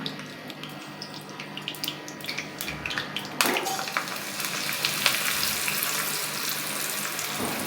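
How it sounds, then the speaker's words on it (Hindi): Oil heating in a pan for Punjabi sarson ka saag, with onions about to go in: a steady broadband frying hiss with faint clinks and a louder burst partway through, no talking. "बस ये जैसे ही थोड़ा गर्म हो जाएगा मैं उसमें अपने प्याज डाल दूँगी।"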